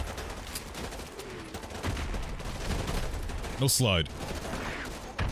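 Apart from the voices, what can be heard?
gunfire in the video game Modern Warfare 2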